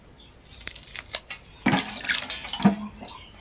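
Water splashes and trickles from a kitchen tap in uneven bursts while coriander is rinsed under it, close by and with no talk.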